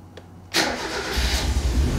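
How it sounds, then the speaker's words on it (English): A car engine cranks and catches after an aftermarket alarm install, starting abruptly out of near silence and settling into a steady, close idle with low rumble. "So 2 means unarmed and the car will start."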